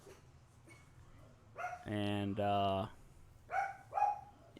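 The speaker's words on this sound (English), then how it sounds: "here come the dogs and stuff." Dogs bark in a short run of loud, harmonic barks with a couple of yips, close by, while a person talks quietly around them.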